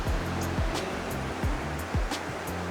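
Water rushes steadily past a sea bass fishing spot in Ehime near a bridge pier, a constant broad wash with occasional low thumps as the current strikes, loud and close, with no voices.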